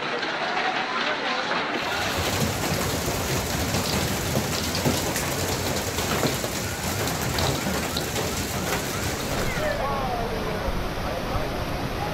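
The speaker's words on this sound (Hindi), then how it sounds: "पंजाब और खैबर पख्तूनख्वा के कई इलाकों में तूफानी बारिशें और यालाबारी" Heavy rain pours down steadily in a thunderstorm, a dense loud roar throughout with rumbling low end, the storm hitting parts of Punjab and Khyber Pakhtunkhwa.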